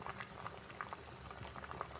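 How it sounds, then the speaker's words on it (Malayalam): Unakka fish curry with raw coconut oil simmers in a pan, giving a faint, continuous bubbling with soft irregular pops close by, with no talking. "ഇനി ഒരു 2 മിനിറ്റ് കൂടി ഒന്ന് തിളച്ചിട്ട് നമുക്ക് ഫ്ലെയിം ഓഫ് ചെയ്യാം"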